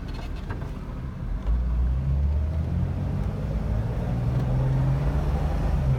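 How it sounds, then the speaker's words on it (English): A 2006 Jeep Wrangler LJ with about 51,000 miles pulls away smoothly, its low engine hum and road rumble rising gently and staying steady inside the cabin. "Nice smooth acceleration between the engine and transmission."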